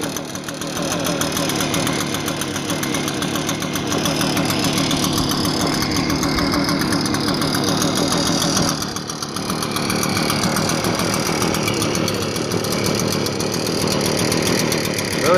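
Echo leaf blower two-stroke engine running with the choke cut off, a loud, close, buzzing rattle that holds steady with a brief dip in revs midway.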